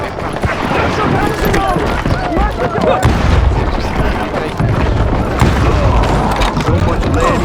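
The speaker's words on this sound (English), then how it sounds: "They're shooting in the street!" Street gunfire in Call of Juarez Gunslinger, a dense, chaotic Wild West shootout with repeated loud shots and booms, voices mixed in throughout.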